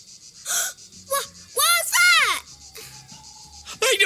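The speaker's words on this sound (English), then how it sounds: "was a ghost scream!" In the Duck Detective video game, a ghostly scream rises and falls in wavering wails, with breathy gasps and short whimpering cries around it, loud and close, broken by quieter gaps.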